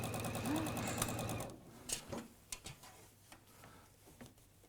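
A sewing machine stitching fabric for a shirt, a fast close mechanical rattle for about a second and a half before stopping, followed by a few light clicks and handling sounds.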